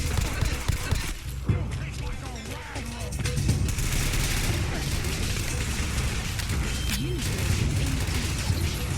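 Steady, dense gunfire and impacts from a heavily modded survival playthrough of Fallout 4, continuous rattling shots and booms layered over busy game noise for the whole stretch.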